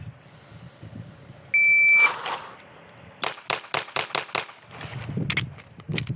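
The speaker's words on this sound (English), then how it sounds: "Do a little test beep" A shot timer gives a single sharp electronic test beep at a shooting range, followed a second later by a rapid string of close, loud gunshots from a Glock 17 pistol, then faint rustling.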